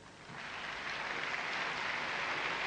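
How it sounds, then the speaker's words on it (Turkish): Steady applause fills a graduation ceremony hall, a dense, continuous clapping from a large audience that swells slightly after the start and holds at an even level throughout. "onları alkışlayırık."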